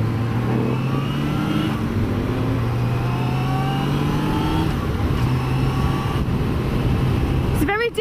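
A 1998 Suzuki GSX-R 750 SRAD inline-four motorcycle pulls through the gears on the road, its engine note climbing in repeated rising sweeps under heavy wind rush, with a brief clatter at the end.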